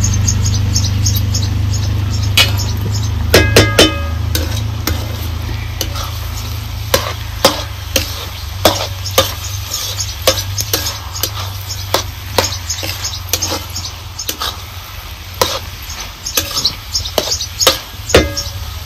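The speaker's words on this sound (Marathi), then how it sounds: "आता ह्या तेलात आहे ना आपल्याला परत भाजी परतून घ्यायची." Spring onion greens being stir-fried in oil, village style, with a soft sizzle under repeated sharp scrapes and clacks of a spatula against the pan, loud and close over a low steady hum.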